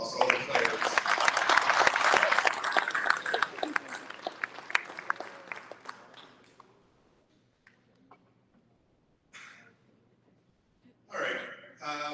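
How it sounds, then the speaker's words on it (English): Audience at an esports banquet claps for the teams and players, a fairly close burst of many hands that fades out over about six seconds, followed by near silence and a couple of short voice fragments. "let's give all our teams a round of applause, all the players"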